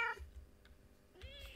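A Minecraft cat gives two short meows, one at the start and one near the end, with a quiet gap between them and no talking.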